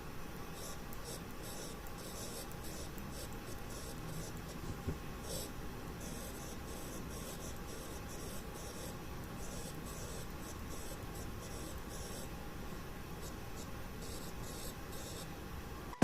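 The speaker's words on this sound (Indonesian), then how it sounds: "Ini benar-benar seperti menulis menggunakan bolpen di atas kertas. Plus ada suara efek seperti kertas" A Samsung Galaxy Note 20 Ultra S Pen plays its paper-like writing sound effect, soft rhythmic scratching strokes repeating steadily under a faint background hiss.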